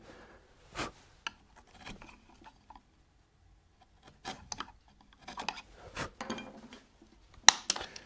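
A wood chisel held in both hands cuts a mortise into clamped timber, giving sparse scraping, rasping strokes and short sharp cracks with quiet pauses between them, close and fairly faint.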